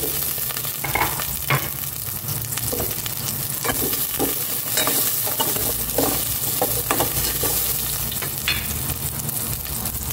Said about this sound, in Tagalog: Igisa ko na itong bawang. Ilagay ko rin yung sibuyas.